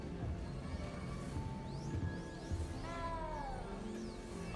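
A cat in Hogwarts Legacy lets out several short rising meows, fairly close and clear, over a soft game background with a player's voice now and then.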